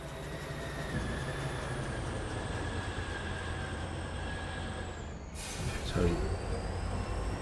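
A train in the factory video game Foundry rolls along its rails with a continuous low rumble and a high mechanical whine, with a brief louder clatter near the end.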